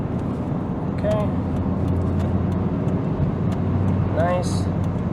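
Volvo V40 1.6 D2 diesel car accelerating to overtake, heard from inside as a steady engine drone with road and tyre noise, while the driver talks over it.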